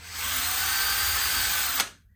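A power drill bores a 1.5 mm pilot hole into a Gordon Smith Strat-style guitar body, running with a steady, loud whine for nearly two seconds, then a brief bump as it stops and winds down to quiet.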